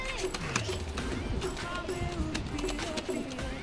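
Madrasi pigeons coo close by in a loft, repeated soft throaty calls rising and falling over faint background chatter.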